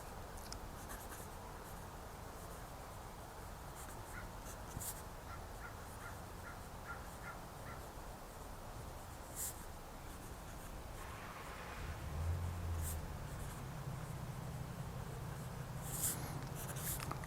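A TWSBI Eco fountain pen nib scratches steadily across paper while writing in reverse, a continuous dry, papery scraping heard close up and alone over low room noise, with a slight rise in rumble near the end.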